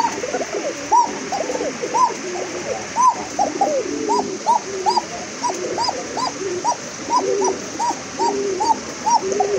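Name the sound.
Bashiraj koka pigeon calling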